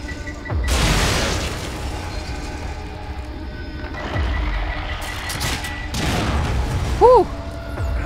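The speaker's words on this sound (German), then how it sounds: "Wieso hat das mich jetzt zum Explodieren gebracht?" A heavy explosion booms in The Evil Within, a deep blast that rolls out with debris and rumble, followed by quieter game ambience and a second smaller burst later, with a rising electronic tone near the end.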